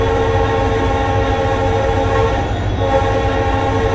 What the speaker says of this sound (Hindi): दूसरा वाला जो हॉर्न है ना उसको भी बजा देते हैं